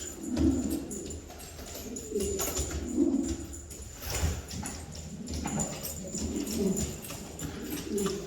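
Soft, repeated cooing of pigeons close by, low throaty calls rising and falling in a steady rhythm with faint background noise.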